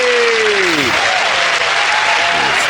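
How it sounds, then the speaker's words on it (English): Studio audience applause on a British comedy panel show bursts in loud and constant, a falling sliding tone at the start fading as the clapping carries on alone. "Okay, give it a round of applause."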